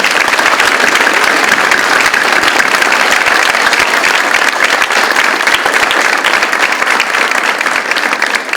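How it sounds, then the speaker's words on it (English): Loud, sustained applause from a Veterans Day ceremony crowd honoring veterans, a thick even roar of clapping hands from start to finish with no let-up. "And let's all give them a round of applause."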